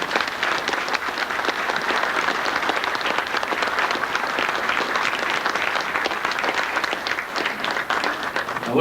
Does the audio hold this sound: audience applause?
yes